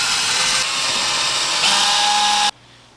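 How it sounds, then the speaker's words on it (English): A power drill runs at high speed boring an 1/8 inch pilot hole into wood while a wall mount for a TV is installed, a loud close whine that changes pitch partway through, then cuts off abruptly. "Drill an 1/8 inch. You got to do that before you actually drill."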